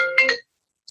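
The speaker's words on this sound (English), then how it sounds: "That was my phone running Facebook Live." A phone ringtone chirps briefly in a short bright melodic burst, then cuts off into silence, followed by a tiny faint blip.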